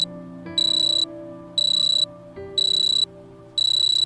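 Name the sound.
phone alarm ringtone ringing, from video game Hollow Home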